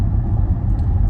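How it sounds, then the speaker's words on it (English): A Jaguar F-PACE SVR with a 5-liter supercharged engine gives a deep, steady low rumble for about a second, loud and continuous with no talk over it. "just by dropping a gear and getting your foot down, it just starts to growl at you"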